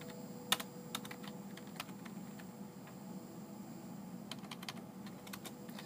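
Typing on a computer keyboard while entering a class heading, with steady, fairly faint key clicks that come in scattered bursts over a low background hum.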